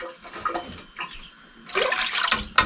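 Water splashes and pours for pickle brine, starting as short intermittent trickles and swelling into a louder, steady gush toward the end, heard close by without speech.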